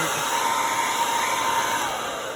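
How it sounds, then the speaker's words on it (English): A blow dryer runs steadily at close range, drying a mixed media book cover, with a constant whirring hum and no talk over it. "I think we need to hit this with the blow dryer quickly."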